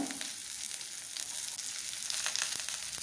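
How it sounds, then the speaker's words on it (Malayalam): Finely chopped onions frying in oil in a pan for an anchovy thoran, a soft, even sizzle with faint stirring scrapes close by. "ഇനി രണ്ട് സവാള ചെറുതായിട്ട് അരിഞ്ഞത് അതുകൂടി നമുക്ക് ഇതിലേക്ക് ചേർത്ത് കൊടുക്കാം"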